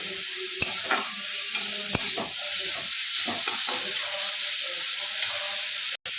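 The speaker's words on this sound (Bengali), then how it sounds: "দিয়ে ভালো করে আমি এটা ভেজে নেবো" Pieces for tomato chops fry in a pan with a loud, steady sizzle and hiss, broken by a few sharp clicks and stirring knocks.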